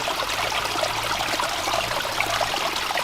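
Water spills steadily over a handbuilt garden waterfall spillway and runs into a small backyard stream, a continuous close splashing trickle heard alone at an even level.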